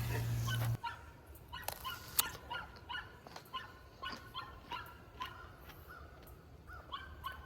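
A trapped coyote lets out repeated thin whimpers and yips over a constant outdoor background hiss, after a loud burst at the start, fairly faint and irregular.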